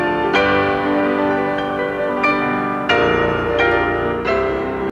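Two pianos play a sweeping theme in harmony, a 1961 pop crossover by two classical pianists; loud, rich sustained chords struck in a slow steady pulse roughly every half second to second, with no voices.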